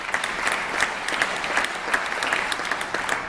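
Audience at a State of the State address applauding steadily, a dense wash of many hands clapping close and fairly loud, with no talk over it.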